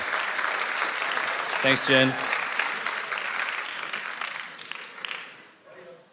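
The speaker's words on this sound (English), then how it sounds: "Give a round of applause." An audience at a high school conference claps in a steady round of applause, and a voice speaks briefly partway through. The clapping thins out and fades near the end.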